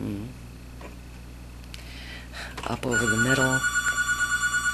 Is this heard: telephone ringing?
yes